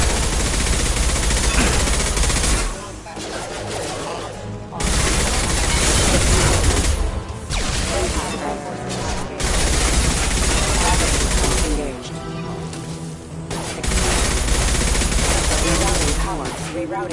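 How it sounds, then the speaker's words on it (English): Concussive shot and gunfire in Mass Effect 2 Legendary Edition, loud sustained bursts of automatic fire broken by short pauses, close and dense, with in-game voices calling out over the shooting. "Firing concussive shot!"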